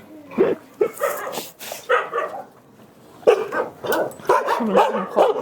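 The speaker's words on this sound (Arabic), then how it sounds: "الكلاب هنا كلها أليفة جدا ودودة." Several dogs bark in bursts at an animal shelter housing about 450 animals, near and loud, with sharp yips and some whimpering between the barks and no voices.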